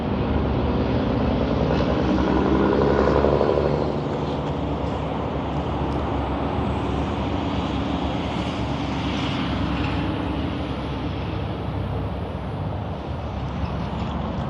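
Traffic on an Interstate 12 ramp in Grand Bay, Alabama roars steadily as cars speed past and accelerate to merge, a loud continuous rushing rumble that swells early, then holds.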